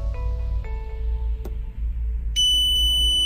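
Electronic beeping tones from a mobile UV sanitizer over a low steady hum as its cycle starts, a few short beeps followed by a higher, sustained tone near the end.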